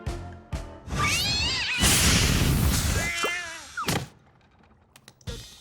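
A cartoon cat in a Smurfs episode lets out wavering, drawn-out meows and yowls amid thumps and clatter, with a short squeal near the end, loud and close.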